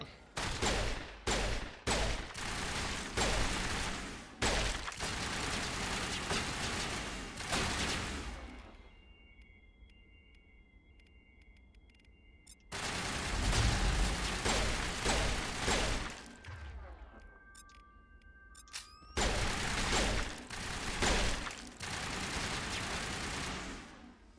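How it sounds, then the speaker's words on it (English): Assault rifle fire in the game Mass Effect rattles out in long, loud sustained bursts separated by quieter pauses that carry faint electronic tones. "Garrus, I'm gonna need you to get that assault rifle out."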